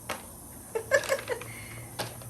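Hard pecans are sprinkled over a sweet potato casserole, landing as a few scattered, light ticking taps that come close and fairly faint, with a short pause between the small clusters of impacts.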